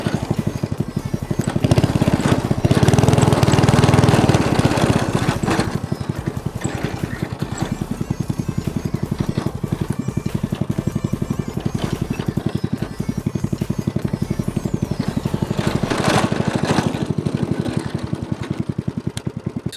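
A hybrid petrol-electric go-kart runs in hybrid mode, its small engine puttering in a steady, rapid chugging drone throughout, with slight swells in loudness.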